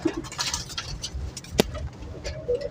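Young pigeons cooing softly at close range among pigeon fancier lofts, a few low coos amid rustling and faint background sounds.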